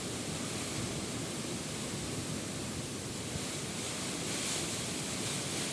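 Strong typhoon wind and rain from Typhoon Kristine, a loud, steady broadband roar that stays dense and unbroken throughout, with no clear individual gusts or voices.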